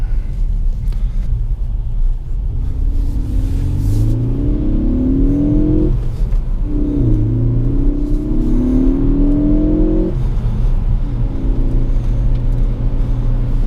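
A 2017 Ford Focus ST with a six-speed manual accelerates hard in third gear on slushy, snowy roads, its engine droning steadily and rising in pitch twice with a brief dip between, loud and continuous inside the cabin with no talk.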